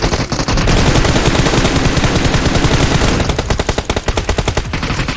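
Intense gunfire in PUBG Mobile during a crowded fight, with loud sustained bursts of automatic fire followed by a rapid, evenly spaced stream of shots close by.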